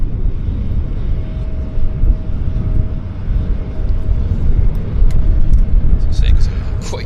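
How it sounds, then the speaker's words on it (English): A passenger aircraft rolls at Vancouver YVR airport, heard as a loud, steady low engine rumble from a distance with broadband roar rising slightly toward the end, while people speak nearby. "this aircraft's rolling"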